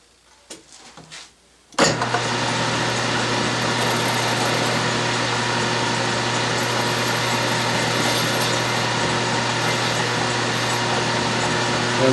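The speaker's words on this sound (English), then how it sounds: "So now with the work in the chuck, I'll face it off the length" Metal lathe facing off a workpiece held in the chuck while making an edge finder, starting with a few clunks and then settling into a loud, steady motor whine with a constant cutting hiss, close, and no talk.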